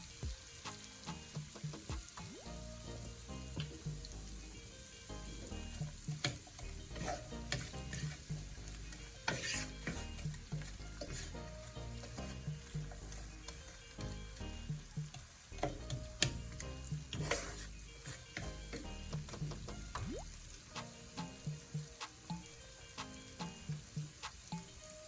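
Food being stirred in a cooking pot with onions for Jamaican-style king fish steaks, a steady sizzle from frying with repeated scraping and clinking of a utensil against the pot.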